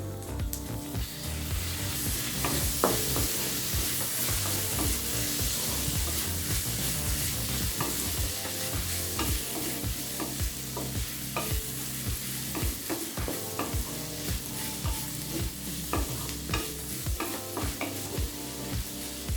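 Onion and tomato frying in a pan for mushroom masala give a continuous loud sizzle with frequent scraping and stirring clatter from a spoon, steady from start to end, with no talking.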